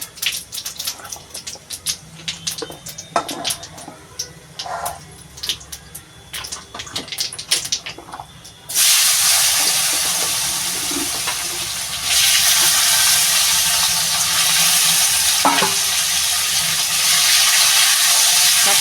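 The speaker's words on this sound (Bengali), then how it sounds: "এইতে একটু জল দিয়ে এবার আলুটা দিয়ে দেবো" Potatoes added to a hot pan with water while cooking a rohu fish curry, starting with scraping and stirring clatter, then a sudden loud, steady hiss and sizzle that continues to the end.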